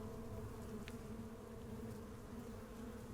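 Insect-like buzzing of bees in the Stoneshard video game, a steady low drone running continuously at a fairly quiet level with no voices.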